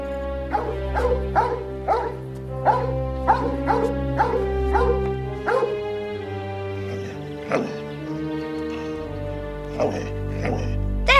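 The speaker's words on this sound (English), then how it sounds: "There's a good dog." A dog barks over and over at close range in bursts of short, sharp woofs, with some yips and whimpers mixed in, above a low hum in the background.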